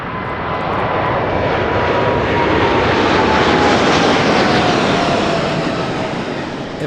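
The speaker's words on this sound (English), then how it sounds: "The 787-9 is the final plane of the night." A Boeing 787-9 roars loudly and continuously at Toronto Pearson airport, a broad engine rush that builds slightly mid-clip and stays close and steady throughout.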